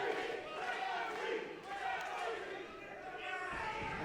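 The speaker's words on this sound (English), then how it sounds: "And the crowd chants Jesse." Wrestling crowd at a New South Pro Wrestling show chanting the name Jesse, a dense, steady roar of many voices filling the arena with rhythmic swells throughout.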